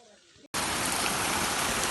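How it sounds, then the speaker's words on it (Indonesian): Heavy rain pours on a mountain hiking trail on Gunung Salak via Cimelati, beginning after a sudden cut as a loud, dense, steady hiss that fills the rest of the clip, following a brief quieter stretch. "Dan setelah lewat pos 6, hujan deras."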